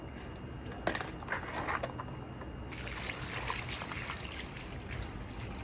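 Diluted fish fertilizer water poured onto potted shade plants outdoors, a steady soft trickle and splash running alone through the whole stretch.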